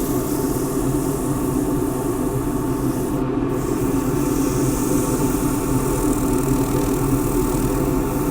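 Sandpaper, 240 grit folded in three, rubs against a spinning natural-edge wooden bowl on a lathe, a steady close scraping hiss over the continuous hum of the lathe motor, with a brief dip partway through.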